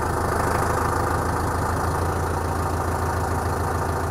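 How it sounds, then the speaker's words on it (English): A Zetor Global 2175 tractor with a forage harvester attached idles in Kenya, its engine running as a loud, steady, close rumble that continues unbroken throughout. "Ya tuko na tractor ya Zetor Global 2175."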